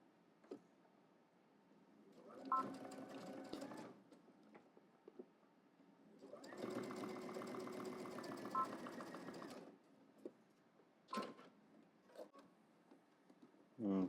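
Sewing machine stitching a seam with a 5/8 inch allowance on a garment pattern, running in two close, steady whirring bursts separated by quiet handling pauses.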